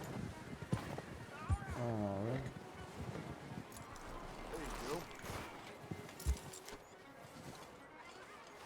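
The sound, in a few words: horse hooves clip-clopping, from video game Red Dead Redemption 2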